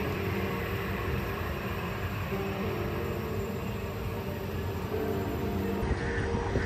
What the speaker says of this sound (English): because it is such a huge airport, they have a dedicated train for this